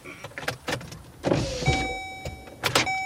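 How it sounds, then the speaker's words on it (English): A car's power windows rolling up from inside the vehicle, a steady whining motor hum with a rising tone, preceded by thumps and rustles nearby and ending with a clunk. "Sorry, I'm in my car and just rolling up the windows."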